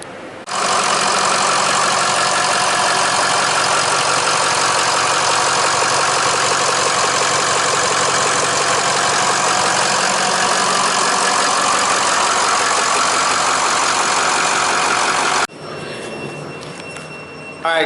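Ford F-350 with a 6.0L diesel engine, repaired after a blown gasket, idles loudly and steadily for about fifteen seconds before cutting to quieter background sound.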